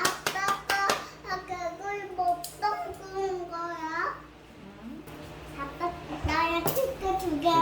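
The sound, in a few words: clapping for the finished oven-roasted bullfrog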